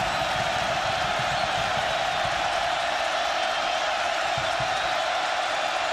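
Dense, continuous roar of a college football stadium crowd cheering during an Oregon at Cal game, loud and unbroken, with some speech mixed faintly into the noise.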